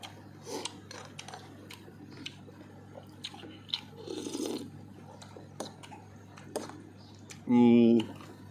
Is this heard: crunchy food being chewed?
yes